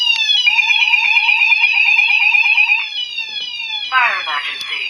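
A Gent Xenex Fire Cryer Plus HD fire alarm sounder runs its test tone: a loud, steady electronic warble with rapidly pulsing tones, then a sweeping pitch drop. It plays alone, with no talk over it.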